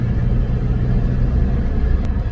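A VW Golf MK5 2.0 TDI with 118,000 miles heard from inside on a warm-up drive, a loud steady low engine and road rumble without much change in pitch.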